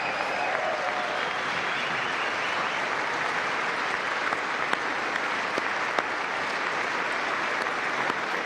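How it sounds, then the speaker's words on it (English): Sustained applause from a sizable crowd, a dense steady clatter of clapping that carries on evenly for several seconds without any talking. "We'll have another 10 minutes of clapping."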